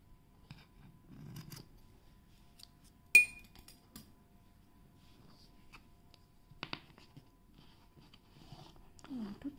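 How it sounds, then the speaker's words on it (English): Scissors trimming the ends of macrame cord for a Polaroid photo hanger: faint, sparse snips and small clicks in a quiet room, one sharper cut standing out, with soft handling noises between. "I'll cut the ends here."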